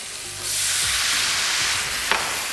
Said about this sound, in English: it's time to deglaze the pan. With what? White wine